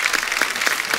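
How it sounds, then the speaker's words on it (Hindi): Studio audience applause on a TV comedy show, dense and loud continuous clapping in a brief burst. "एक बार जोरदार तालियां हो जाए अंतिम की पूरी स्टार कास्ट के लिए"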